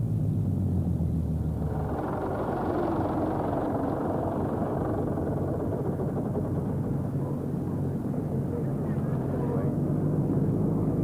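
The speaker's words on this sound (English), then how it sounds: "A Mark I taxis in." A Spitfire Mark I fighter plane taxis in, its engine a steady, loud low rumble and drone that holds throughout, with a talking voice over it.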